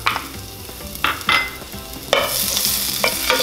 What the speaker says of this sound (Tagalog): Igigisa lang natin itong bawang.